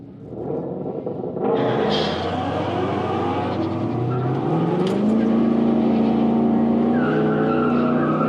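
An Infiniti Q45 sedan racing on a track, its engine rising steadily as it accelerates with a loud sustained roar and tire noise, close and continuous with no talk.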